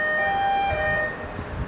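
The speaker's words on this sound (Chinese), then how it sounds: "就有警报响起了。" An alarm at a Taiwanese fire station sounds as steady, sustained electronic tones, loud and near, over a low rumbling background.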